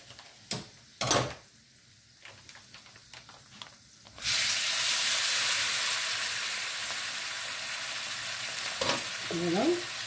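Shrimp dropped into butter and spices: a few scattered knocks and clatters first, then a sudden loud sizzle that stays steady and close while being stirred, with a faint brief voice near the end.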